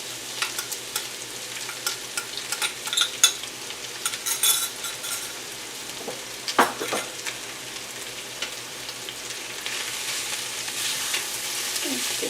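Kielbasa simmering in apple sauce with brown sugar, stirred in a pan: a steady close sizzle with scraping spoon strokes and occasional light clinks against the pan, no talking.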